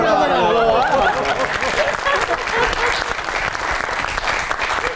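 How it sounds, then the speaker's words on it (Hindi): A studio audience at a comedy show breaks into loud, sustained applause, an even wash of clapping that carries on for several seconds with voices underneath. "बहुत ही तालियां क्या बजाएं।"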